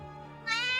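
A pet cat gives one short meow that rises sharply midway, close and clear, with no one speaking over it.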